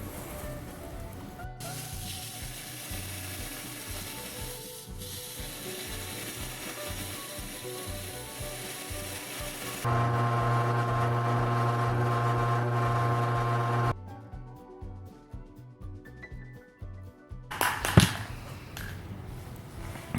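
A belt grinder steadily grinds bevels on a steel skinning knife blade, a continuous rough abrasive drone that shifts to a louder humming pitch midway, then changes again with scraping bursts near the end, no talk.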